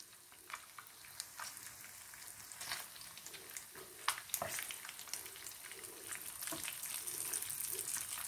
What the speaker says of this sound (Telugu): అటువైపు వేగడానికి 2-3 నిమిషాలు పడుతుందన్నమాట